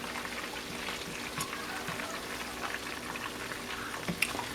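Jalapeno bacon duck wraps frying in hot oil, a steady dense sizzle and crackle running without pause, with a few brighter pops near the end.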